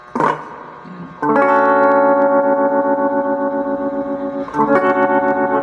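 Electric guitar chords ring out through heavy distortion and echo from a Vox StompLab 2G, sustained and loud after a short picked lead-in, then restruck near the end.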